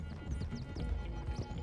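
Several horses gallop in Red Dead Redemption 2, a steady drumming of hooves with low thuds kept up through the whole stretch, loud and close, among a busy game soundscape.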